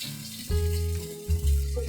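Tau pork and fucuk frying in a small amount of oil for Hakka yong tau foo, a close, steady sizzle that swells in two bursts as the pieces hit the pan.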